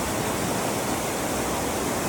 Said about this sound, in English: Big river, eh?